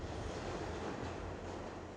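A train pulling away from Penn Station, heard as a low, steady rumble and hiss of rolling rail cars, quiet and unbroken throughout.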